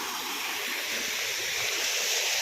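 Water pours steadily at the Macha Kandhana waterfall in Kaptipada, Mayurbhanj, Odisha, a continuous loud hiss and rush with no breaks and no voices over it.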